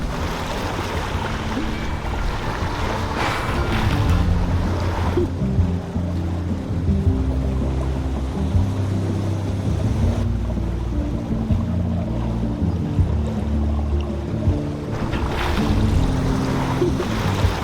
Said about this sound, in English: We are out of the fog and we are sailing!